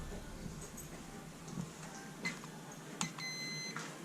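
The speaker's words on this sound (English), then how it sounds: "we're going to set our timer for 7 minutes" A kitchen timer gives a few short, faint electronic beeps as it is set for seven minutes, alone over a quiet room hum.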